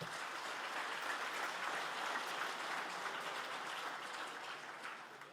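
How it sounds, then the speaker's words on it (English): Applause for award nominees at the 2019 WESPY Awards ceremony, a dense, even crowd clapping heard from some distance that holds steady for about five seconds and then begins to fade. "A round of applause for them,"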